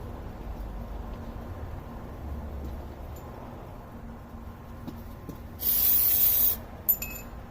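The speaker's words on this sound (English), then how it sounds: "I just want to spray some of that off some more." An aerosol cleaner sprays a short hissing burst of about a second onto the engine block mating surface of a 2003 Chevrolet Cavalier 2.2L supercharged during front main seal work. A brief second puff follows against quiet background rustling.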